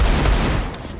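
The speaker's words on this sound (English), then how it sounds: "I shot the pistol, now he's coming out." Pistol gunshots in a video game, a dense burst of sharp cracks close up over a loud, busy game mix.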